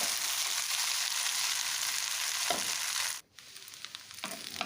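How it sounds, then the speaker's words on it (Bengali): Vegetable chow mein with soy sauce frying in a pan, a steady close sizzle that briefly drops out near the end before resuming with light stirring clatter. "এখন এটা একটু ফ্রাই করে নেব মিনিট চার পাঁচ ধরে"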